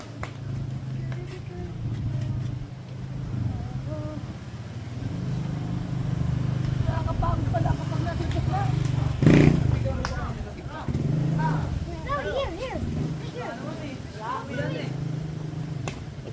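A motorcycle passes nearby on a Philippine street, its engine rising to a brief close peak then fading, heard under adults talking and calling out to a child.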